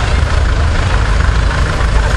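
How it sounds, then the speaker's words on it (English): A restored 1946 McCormick Farmall Standard tractor rolls along in a parade, its engine a steady, loud, low rumble with broad mechanical noise throughout. "Right behind him is a 1946 McCormick Farmel Standard"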